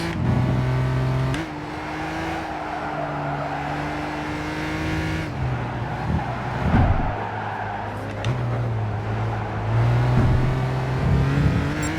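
A race car engine in Gran Turismo 5, running on sport tires, drones loud and steady and shifts pitch as it revs, with brief tire squeal and skidding as the car slides across the road. No one speaks.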